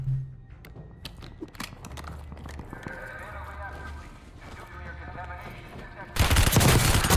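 Gunfire in the video game Warzone breaks out as a sudden loud burst near the end, after quieter in-game sounds, while a player talks.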